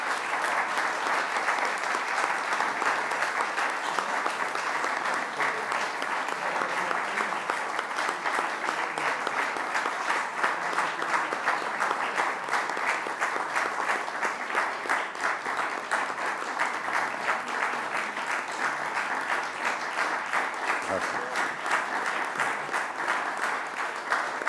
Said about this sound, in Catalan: Aquests aplaudiments no són habituals